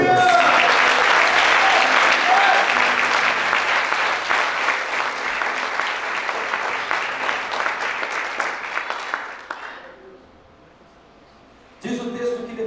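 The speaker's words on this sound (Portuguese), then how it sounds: "Aplauda teu Deus." A church congregation claps loudly and continuously for about ten seconds before the applause stops, followed by a brief pause and then a voice speaking.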